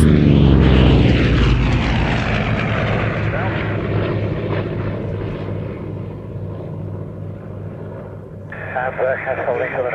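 A Bearcat and a Corsair, World War II fighter planes, roar past with loud, sustained piston-engine drone that slowly fades as they pass, and a brief burst of crowd or radio chatter comes in near the end.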